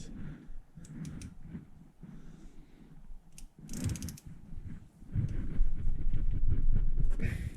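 Ratchet working a bolt on a Volkswagen Beetle transmission, with bursts of rapid close clicking and metallic rattles, irregular in rhythm, over a busy garage background that grows louder toward the end.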